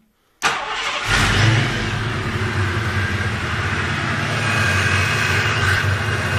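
A car engine fitted with a belt-driven turbocharger fires up and settles into a loud, steady rumbling run with the revs held up, close by, with no talk over it.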